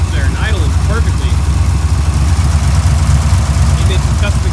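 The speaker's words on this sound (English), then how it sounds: "Look at that, just sitting there and idling perfectly." Rebuilt racer engine with custom exhaust manifolds idling steadily, a continuous low rumble with about 40 pounds of oil pressure, close and even for several seconds.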